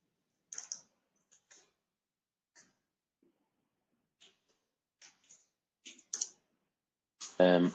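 Sparse, isolated clicks of a computer keyboard as code is typed, soft and close, with long pauses between keystrokes before a voice begins at the end.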